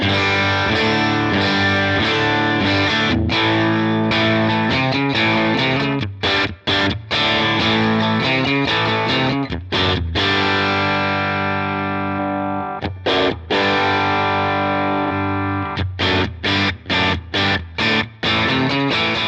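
An electric guitar plays through a Vox AC30 valve amp with a warm, mid-heavy overdriven tone: chords and riffs ringing out, with brief pauses near the end.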